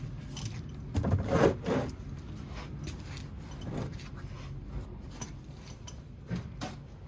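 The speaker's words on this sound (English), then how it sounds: "So taking out the bolt" Metal clinks and light ratcheting as the 13 mm oil drain bolt is loosened and taken out on a V6 Ford Escape during an oil change, several short close taps over a steady low background.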